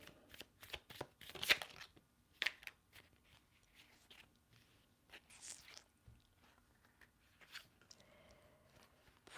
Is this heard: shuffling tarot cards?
yes